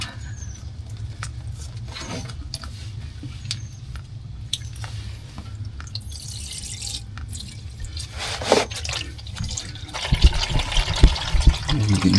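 Hot engine oil pours from the drain plug of a 2024 Ford Transit 350 chassis into a drain pan, a steady wet trickle under a low hum, swelling into louder splashing near the end.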